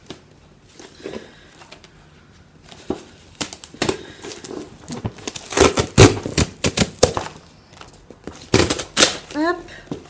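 A cardboard parcel from Aroma-Zone being opened up close: crinkling, tearing and rustling bursts with packaging handled in uneven spurts, mixed with someone speaking in French.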